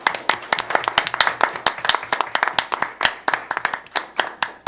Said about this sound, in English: So let's give them both one more big round of applause for their service.